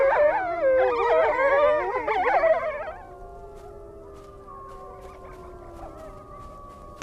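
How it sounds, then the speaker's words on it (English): Several gray wolves howl together in overlapping rising and falling tones for a few seconds, then fall away to a single long, quieter howl that fades out. "Howling strengthens social bonds amongst wolves."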